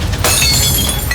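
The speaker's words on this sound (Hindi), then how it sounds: "नीचे गिरते ही ग्लास एक तेज आवाज के साथ टूट गया" A drinking glass knocked off a table hits the floor and shatters with a loud, sharp crash, its bright breaking noise filling the whole moment alone without any voices.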